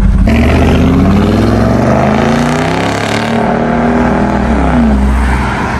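A Mercedes G55 Brabus engine roars loudly and continuously as the vehicle pulls away, a thick, rumbling exhaust note that builds as it accelerates.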